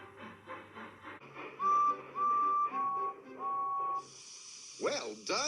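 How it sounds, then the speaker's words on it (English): Four sustained steam locomotive whistle toots in a row, each held about half a second, followed by quick rising squeals. "They were very surprised to hear Thomas whistle"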